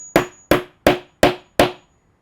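Five firm hammer strikes drive a rivet onto a handbag, evenly spaced about every third of a second, each a sharp close impact with a short ringing decay, then quiet.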